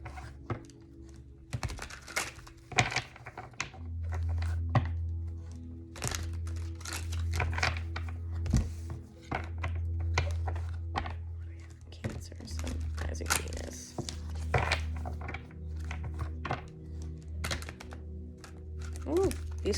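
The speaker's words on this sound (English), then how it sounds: "these cards never want to shuffle for me" A deck of tarot cards is shuffled by hand: irregular, crisp snaps and papery riffles come in uneven bursts over a low steady hum, with a quiet voice now and then.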